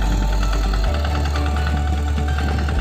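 A small five-horsepower diesel engine on a nano tractor runs close by with a loud, steady chugging drone and rattling vibration throughout.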